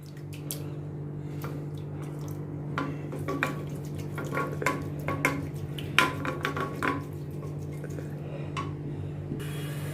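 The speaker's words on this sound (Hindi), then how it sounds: "अभी मैं कुकर का ढक्कन खोलती हूँ और इसको अभी मैं ये मैशर के साथ अनियन को अच्छी तरह से मैं मैश करती हूँ" A masher squelches and taps through soft cooked onions inside a pressure cooker, with wet mushy sounds and intermittent metallic clinks against the pot, all close and clear with no talking.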